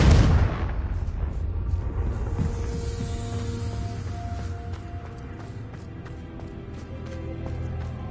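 A Confringo blasting spell in Hogwarts Legacy lands with a loud booming burst that decays into a long, ringing magical rumble with scattered crackles and tonal shimmer over several seconds.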